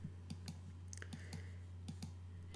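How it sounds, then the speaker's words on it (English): Mouse clicks from a computer mouse while clicking and dragging in Adobe Photoshop CS6, a string of sharp, close, quiet clicks at an uneven pace over a steady low hum, with no talking. "And here, I'm just clicking and dragging."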